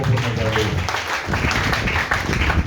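A church congregation applauding in praise, dense continuous clapping that fills the room, with voices mixed in underneath.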